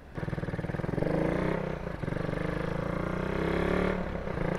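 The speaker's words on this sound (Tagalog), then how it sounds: "Sobrang lakas ng motor, nag-skid." A Raider 150 motorcycle fitted with a 28mm carburetor, tuned yet still misfiring, accelerates close by with a loud, pulsing engine note that climbs and dips through repeated revs.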